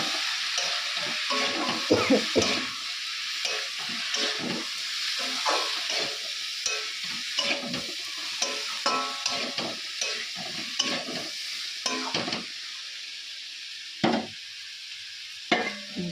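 Drumstick vegetable stalks cooking with spices in a pan, a steady soft sizzle broken by repeated scraping stirs and clinks of a spoon, with no talking.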